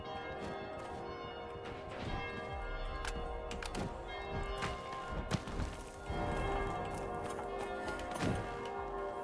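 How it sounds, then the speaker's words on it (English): Church bells toll in the video game Vampire: The Masquerade - Bloodhunt, a steady run of ringing strokes that overlap with thuds and clicks from gameplay throughout. "I like the bells."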